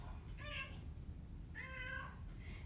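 A talkative house cat gives two separate meows about a second apart, soft and fairly distant, with a low room hum underneath and no talking.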